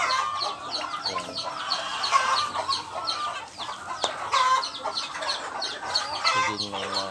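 Hens and young turkeys on a farm cluck and chatter continuously at feeding time, a dense, close flock sound with overlapping calls throughout and no talking.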